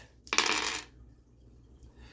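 A handful of dice rolled and tumbling across a surface, a bright rattling clatter lasting about half a second, close and fairly loud, then quiet.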